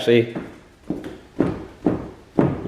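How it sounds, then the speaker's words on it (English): Four heavy stamps thud in a slow, even rhythm on a flexing floor, each a dull close knock with a slight creak, after a brief voice at the start. "probably actually hear that I'm stamping on it"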